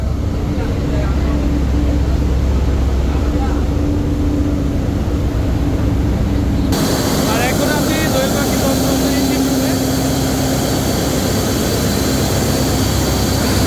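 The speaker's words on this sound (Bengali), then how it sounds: "দুটি ইঞ্জিন দিয়ে লঞ্চটি চলে দুটি ইঞ্জিনই উইসাই ব্র্যান্ডের মেড ইন চায়না সম্ভবত" Two Weichai diesel engines running together in the engine room of a Dhaka–Bhola passenger launch, a loud steady drone with deep low rumble and mechanical roar that grows harsher and brighter partway through, continuous throughout.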